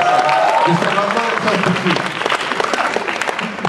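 Audience applause from students at a live university interaction session, dense and steady clapping filling the whole stretch, with a voice speaking over it near the start.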